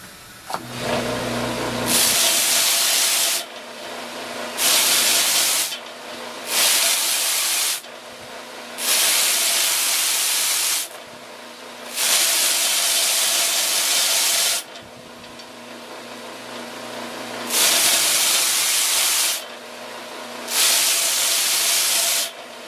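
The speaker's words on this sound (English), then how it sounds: "use the sanding mop to go over the edges and smooth everything out a little bit" A sanding mop whirs against the edges of wooden puzzle pieces in repeated bursts of steady, hissing abrasion, each pass lasting a couple of seconds with brief pauses between, close and fairly loud with no voices.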